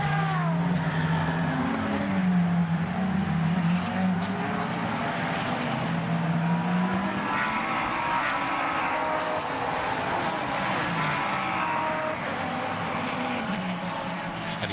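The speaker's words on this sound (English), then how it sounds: "Through Bruxelles downhill and the Speaker's corner, and towards Pouan goes Christian Menzel" A Haribo Porsche race car in the Pro-Am class runs downhill through corners at Spa circuit in Belgium during an endurance race, its engine note rising and falling as it passes at a distance amid other cars.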